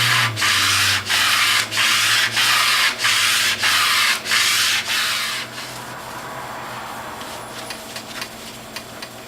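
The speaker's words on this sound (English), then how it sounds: "take some 600 grit or 400 grit sandpaper, wrap it around a piece of styrofoam like I'm doing here" Fine-grit 400 or 600 sandpaper wrapped around a styrofoam block is rubbed along the grain of scratched sheet metal on a juicer. About seven steady, close back-and-forth scraping strokes are followed by quieter handling noise.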